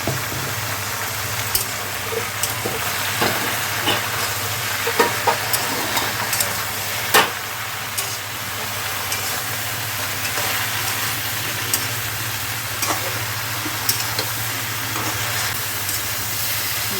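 Onion, cumin powder and turmeric fry in a pan for an okra and potato curry, a loud, continuous sizzling hiss with scattered scraping stirs and clicks of the spoon, heard alone.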